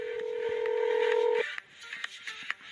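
A mobile phone gives a steady electronic dialing tone for over a second, then a few soft, scattered clicks follow; there is no talking.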